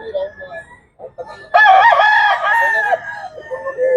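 A rooster crows loudly and close by at a busy chicken market in the Philippines, one drawn-out crow over softer clucking and background murmur.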